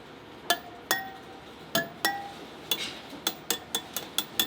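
A spoke wrench works around the spokes of a Harley motorcycle wheel, giving bright metallic clinks and pings. About a dozen strikes come alone, spaced unevenly at first, then quickening into a faster run near the end.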